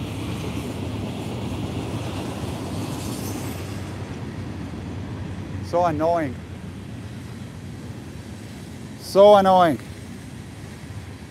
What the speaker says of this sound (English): Yeah, it's one of those long trains!